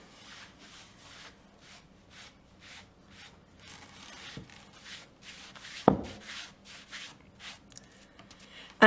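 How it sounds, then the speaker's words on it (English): A cloth rubs varnish onto an old piece of wood along the grain, giving quiet, repeated swishing strokes in a steady rhythm, broken by a few faint knocks and a sharp click near the end. "put the varnish on, wipe away, going with the grain of the wood, smoothing anything out as I go."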